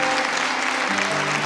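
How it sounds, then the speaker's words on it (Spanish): A church congregation claps loudly and steadily throughout a Sunday service, dense applause with a low murmur or music underneath. "Dale un fuerte aplauso."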